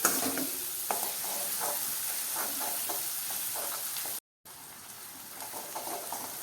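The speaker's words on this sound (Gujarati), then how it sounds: "તરત જ આપણે કાપેલી ડુંગળી એડ કરી દઈએ ડુંગળીને પણ સારી રીતે ચડવા દઈએ ફ્રાય થવા દઈએ" Chopped onions fry in oil for a bitter gourd curry, making a soft, steady sizzle with faint crackles and one brief dropout, quiet and without speech.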